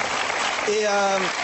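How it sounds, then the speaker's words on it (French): Studio audience applause on a French television talk show, a steady dense wash of clapping throughout, with a voice speaking briefly over it near the end. "Vraiment, applaudissez-la."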